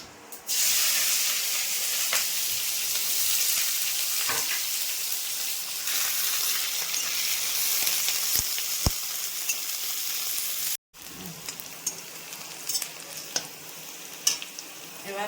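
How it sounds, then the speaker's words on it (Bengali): Chopped onion frying with whole cumin seeds in a pan makes a dense, continuous sizzle with scattered crackles, cut by a brief silence before resuming. "এবার দিয়েছি পেঁয়াজ কুচুনো।"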